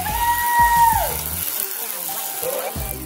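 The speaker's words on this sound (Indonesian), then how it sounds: "Berikutnya kita siram." Water splashes and streams onto a car's glass window, a steady wash that fades after a second or so, with a brief second pour near the end.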